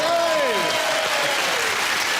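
A studio audience on a trivia panel show claps in a dense, loud burst of applause, with a voice sliding over the start before the clapping carries on alone.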